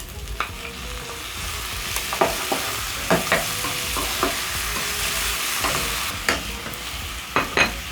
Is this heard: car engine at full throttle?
no